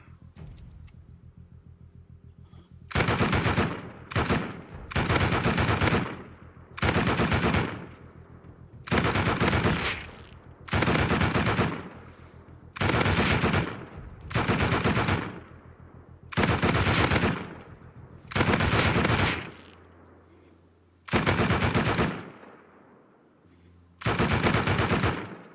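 Automatic gunfire in the survival video game Rust comes in a dozen loud, sharp bursts of roughly a second each, separated by short quiet gaps, with faint ambient birdsong in the background.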